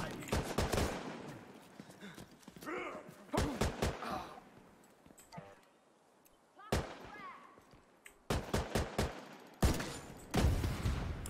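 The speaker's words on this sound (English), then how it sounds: "Still hear a lot of shooting" Gunfire from The Division 2 multiplayer crackles in sharp, loud bursts, clustered volleys of rapid shots separated by brief lulls, with occasional heavier reports and a voice briefly heard between them.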